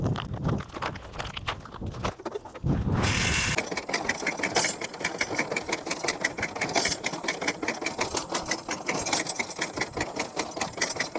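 A small cotton seed planting machine runs with a steady, rapid mechanical clatter, loud and close, after a brief burst of noise near the start.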